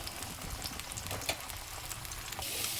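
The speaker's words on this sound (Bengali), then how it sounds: "আলুটা একটু দেখুন একটু ভাজা ভাজা হয়ে গেছে কিন্তু আলুটা" Potatoes frying in oil in a home kitchen, a steady soft sizzle with scattered pops and light crackle throughout, close and fairly quiet, with no voices.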